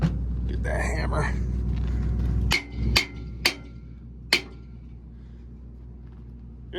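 Hammer striking metal during potato-harvest equipment work with a loader: three or four sharp, ringing clanks spaced about a second apart, following an engine rumble and brief talk.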